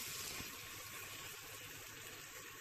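Water is poured steadily into chicken curry cooking in a clay pot, a continuous close gushing, splashing pour with no talk.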